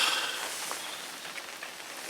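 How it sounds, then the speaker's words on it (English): Steady rain patters over a fishery pond in Devon, a dense even hiss close around with no pauses and no voices. "still raining"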